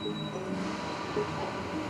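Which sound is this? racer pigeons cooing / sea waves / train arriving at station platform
train arriving at station platform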